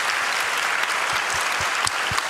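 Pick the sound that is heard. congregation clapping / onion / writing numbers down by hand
congregation clapping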